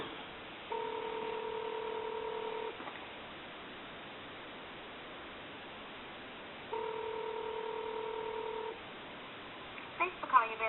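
A converted Kellogg wooden wall telephone dials a number, giving two sustained steady dual-tone bursts about two seconds each, separated by a pause, with a faint background hiss and a few clicks at the end.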